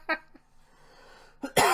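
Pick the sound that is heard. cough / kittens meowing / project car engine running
cough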